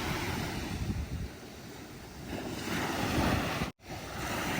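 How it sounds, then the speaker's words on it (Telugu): Sea waves wash onto a beach in Korea under dark clouds, a continuous rushing surf mixed with wind buffeting the microphone and a brief dropout near the end. "ఈ అలల యొక్క సౌండ్ని వింటూ ఉండొచ్చు రిలాక్స్గా ఉంటుంది"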